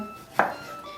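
A single sharp knife chop through fresh ginger on a cutting board, one crisp close stroke in an otherwise quiet moment.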